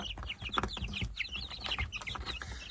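Chickens clucking in a farmyard flock, a busy overlapping chorus of short clucks and squawks, moderately close and continuous, no talking.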